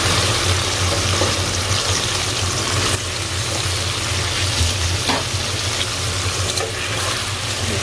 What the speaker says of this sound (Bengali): সুন্দর করে একটু কষাই নিই।